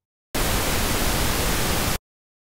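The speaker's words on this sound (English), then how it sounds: "Here's pink." Pink noise, a broadband hiss weighted toward the low end, starting abruptly and holding a steady, even level for over a second and a half before stopping cleanly.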